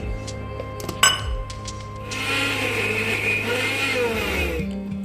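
A few clinks and taps on the jar come first, then a mixer grinder starts up and runs with a loud, steady whir as it grinds chutney with added water, before the motor winds down at the end.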